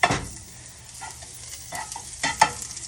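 Butter sizzles in a hot pan on lowered heat, a steady soft frying hiss broken by a few sharper clatters and scrapes as it is stirred, close by with no voices.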